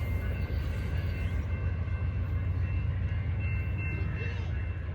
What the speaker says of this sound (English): There goes the train.